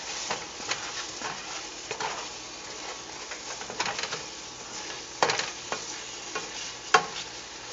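Asparagus sautéing in a glazed sauce in a pan over turned-down heat, a soft steady sizzle with occasional stirring clinks and scrapes, close and alone.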